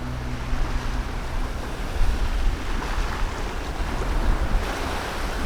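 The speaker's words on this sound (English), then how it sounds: "Downwind sailing at its finest." A sailboat runs downwind through ocean waves, with steady rushing water and surf along the hull and wind noise on the microphone, continuous, close and fairly loud, with no voices.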